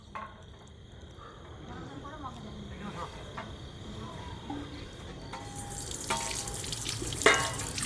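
Hot water running from a tap in a home kitchen, a steady soft stream with faint drips, growing louder and brighter toward the end with a splashy burst near the close; quiet voices murmur in the background.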